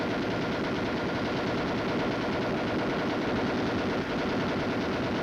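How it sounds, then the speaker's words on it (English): M73 lightweight air-cooled tank machine gun firing fully automatic, a dense continuous rattle of rapid shots at steady loudness with no pauses. "The M73 machine gun is a lightweight, air-cooled weapon. It is recoil operated with a gas assist and is completely automatic."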